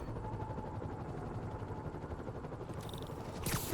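Helicopter rotor chop in the video game Spider-Man Remastered, a faint steady throb under game ambience, ending with a couple of sharp bright bursts near the end.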